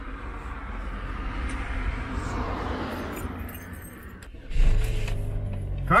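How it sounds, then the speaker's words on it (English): Car sitting unused for three weeks starts up, a low engine rumble with a rattle of keys and clinks, then a louder surge as the motor catches and settles into idle close by. "Car still works, that's good."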